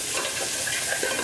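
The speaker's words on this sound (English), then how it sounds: "So we're going to saute this down nicely." Pancetta and chorizo sauté in a hot pan, a steady bright sizzle and crackle of frying fat with faint stirring, close and continuous without talk.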